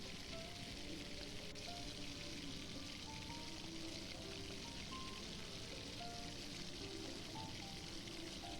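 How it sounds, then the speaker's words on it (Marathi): Banana bhaji deep-frying in hot oil over a medium flame, a steady dense sizzle and bubbling hiss that holds at an even level throughout, with no voices. "मीडियम फ्लेमवर आपल्याला ही भजी तळायची आहे"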